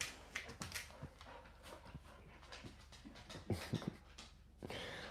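A dog pants and whimpers close by, quiet rapid breaths broken by small whines, soft thumps and scrabbles, with no talking over it.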